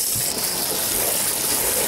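Running water gushes over soaked beans being rinsed before making tofu and soy milk at home, a steady close splashing rush with no speech.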